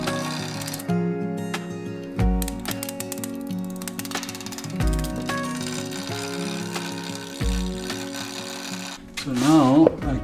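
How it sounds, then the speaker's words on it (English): A wood lathe spins a piece while a ball gouge cuts it, giving a steady whirring motor hum with rhythmic scraping bursts that swell and fade every few seconds, close and fairly loud. "Can work with the ball gouge,"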